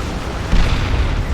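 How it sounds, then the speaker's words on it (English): Plasma Destroyer shots detonating in Dawn of War 2, a dense, loud rumbling barrage of overlapping explosions that swells halfway through and holds as a continuous heavy roar. "Plasma Destroyer shots going in."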